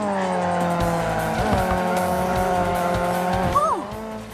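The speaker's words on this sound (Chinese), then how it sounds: "在合适的区域里漂移，过弯会更快。" A car drifting in the Need For Speed Mobile video game, a loud, steady engine drone with sustained tire squeal through the slide that shifts pitch near the end, with no talking.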